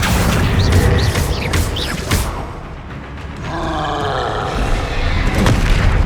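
Spell explosions from Confringo and Bombarda in the Hogwarts Legacy video game: sharp blasts and booms with whooshing magical effects, a quieter lull midway, then more crackling impacts, loud and close with grunts mixed in.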